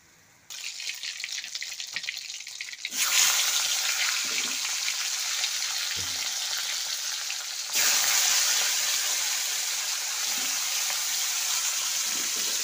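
Vegetables fry in a pan with a loud, continuous sizzle that swells sharply twice as more goes in, steady and close with no talk.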